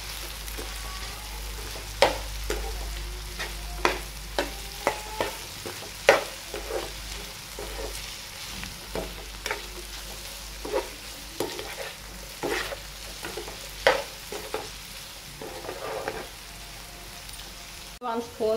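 Potato fry being stirred in a pan after coriander powder goes in, a spoon scraping and clacking in repeated sharp strokes over a steady low sizzle, close and fairly quiet.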